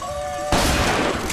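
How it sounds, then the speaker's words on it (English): Gunfire from a fairground shooting-gallery game in BioShock Infinite: a sudden loud burst of rapid shots cuts in after a few soft tones and keeps rattling close and harsh to the end. "I just need to shoot some things."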